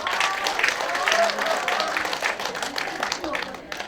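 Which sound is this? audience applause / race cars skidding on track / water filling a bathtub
audience applause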